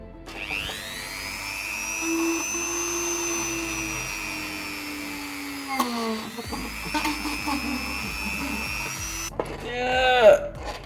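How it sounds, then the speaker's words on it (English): A Dremel rotary tool cutting a small hole in a plastic part for a goldfish egg setup. It whines steadily at high speed, bogs and changes pitch midway, then stops at the end amid brief handling noise. "so I'm just going to cut a little hole in it with a Dremel"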